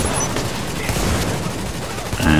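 An automatic SGS shotgun fires in the shooter game The Division, a loud, dense burst of rapid blasts packed together with barely a gap, running without pause for a couple of seconds.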